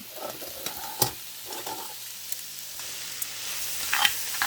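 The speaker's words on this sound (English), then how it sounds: "I'll add the carrots, and I'm going to add the mushrooms" Carrots and mushrooms sizzle steadily in a pan for chicken cacciatore, with soft intermittent stirring scrapes and clacks of a utensil over the continuous frying hiss, close by and without speech.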